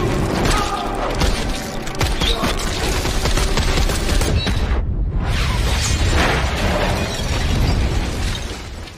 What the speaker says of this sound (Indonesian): Sontak semua anak buah Romeo mengeluarkan senjata dan aksi pertama di film ini pun dimulai